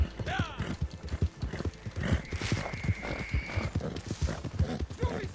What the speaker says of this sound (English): All right, so I've got myself a stolen horse here.